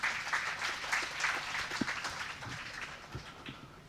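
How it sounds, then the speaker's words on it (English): An audience at an international academic conference applauds, a fairly faint, thin wash of clapping from a modest crowd that gradually fades over four seconds. "We can give them a big applause."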